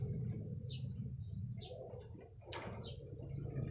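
Racing pigeons flutter and flap their wings close by, with soft cooing and a few higher chirps over a low background hum, in short irregular bursts.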